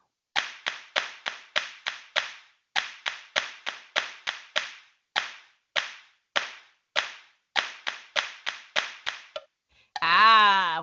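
Students in an elementary music class clapping out a rhythm, crisp isolated claps in grouped patterns with short pauses between phrases, close and clear, followed by a brief burst of another sound at the end.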